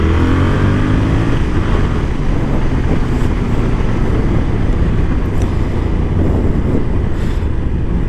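A Yamaha Tracer 7 twin-cylinder motorcycle engine hums steadily while riding, a low, loud drone heavily buried in continuous wind roar, with no speech.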